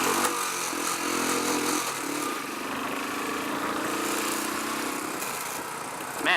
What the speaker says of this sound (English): Man, I did not want to rev. I think I hit the rev limiter.